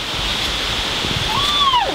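Water at a lake at the end of a garden on a fishing weekend, heard as a steady, even rushing wash with no voices, and a short rising-and-falling whistle-like sweep near the end.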